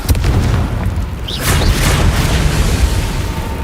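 Bombarda blasting spell in Hogwarts Legacy combat, a loud booming explosion that rumbles on with crackling debris, followed by a second burst and sustained low roar.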